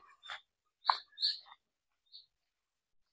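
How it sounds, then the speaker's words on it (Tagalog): A handful of short, high bird chirps ring out one after another in Seogwipo on Jeju Island, South Korea, quiet and spaced apart with silence between them. "marinig mo yung huni ng mga ibon"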